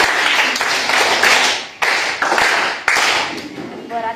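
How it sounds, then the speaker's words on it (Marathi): A class of primary schoolchildren at a village Zilla Parishad school clapping together in loud bursts of rapid applause, with brief pauses between rounds. "याच्यासाठी परत एकदा टाळ्या वाजवायच्या"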